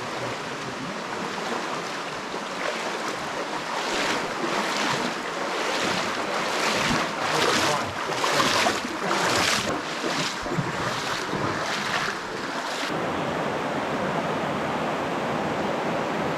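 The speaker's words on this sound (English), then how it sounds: "A very atmospheric river." Steady rushing water of a river in the Patuna Chasm gorge, a broad continuous wash with surging pulses and some wind buffeting, no voices.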